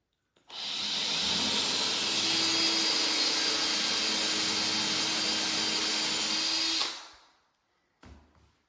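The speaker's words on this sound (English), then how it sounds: "So I'm drilling 2-inch pilot holes for these big concrete screws." A power drill runs continuously at high speed for several seconds, grinding steadily as it bores 2-inch pilot holes into concrete for large concrete screws, then winds down to silence before a brief clunk.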